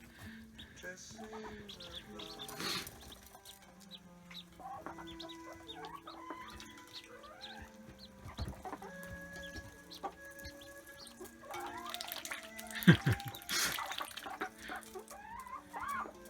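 Small ducklings peep and chirp close by in a stream of high, thin calls, with a person speaking over them and some faint water dripping.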